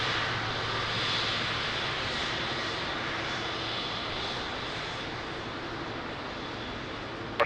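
A Boeing 777 airliner takes off at Lisbon Airport, its engines a steady, loud broadband roar that holds evenly throughout with no voices.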